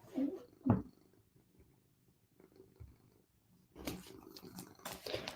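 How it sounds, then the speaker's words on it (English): A female house cat purrs in a faint, low, steady rumble during a quiet stretch, with voices talking briefly before and after it. "There's the cat."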